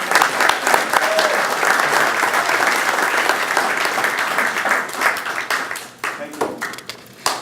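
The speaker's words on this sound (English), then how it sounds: "Let's give a good applause to our past Grand Knight, our MC for tonight, Chris Moore." Audience applause at a Knights of Columbus civic night in Oxnard, a steady dense round of clapping that tapers off near the end, with some talking mixed in.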